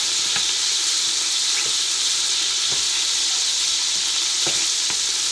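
Chorizo sausage sizzles and spits steadily in a hot pan with rendered fat, a dense, continuous frying hiss close up, with a few faint stirring clicks scattered through.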